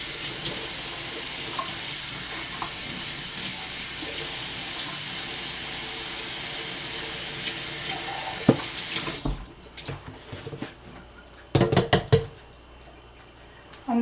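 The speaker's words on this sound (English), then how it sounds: "Gonna have to wash this again." A tap runs steadily into a kitchen sink while a measuring cup is rinsed under it. The flow stops partway through, followed by a few close clinks and knocks of the cup being handled.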